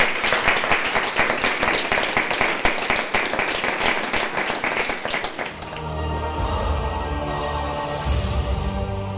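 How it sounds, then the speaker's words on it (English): An audience applauds a panel at a public discussion event with brisk, crowded clapping for about five seconds before it dies away into a quieter room tone with a faint hum. "please give them a round of applause and thank them very much for their time today"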